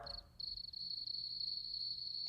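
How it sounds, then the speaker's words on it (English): A single cricket from an ambience synth plugin chirps in a steady, high, continuous trill, close and clear over a faint low hum. "Like say I want a random cricket noise to happen"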